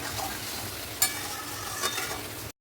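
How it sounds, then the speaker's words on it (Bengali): Chicken and spice paste frying and being stirred in a pan, Gondhoraj chicken in the making: a steady close sizzle runs throughout, with a couple of sharper scrape-and-stir accents, then a sudden cut to silence. "দিয়ে এবারে আমি মাংসটাকে ভালো করে কষিয়ে নেবো"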